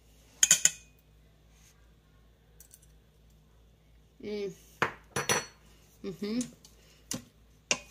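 Spoon and cutlery clinking against a pan while fried rice cooks, sharp metallic clicks and taps in scattered bursts, with a person talking in between.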